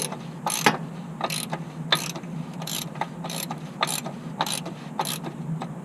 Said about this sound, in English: I put the tool back on, take my ratchet,